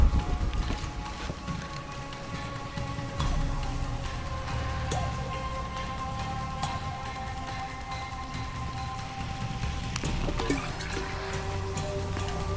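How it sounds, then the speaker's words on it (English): Steady rain falls in the video game Shadow of the Tomb Raider, a continuous hiss of drops with scattered patters and occasional footstep-like thuds. "This rain's not natural."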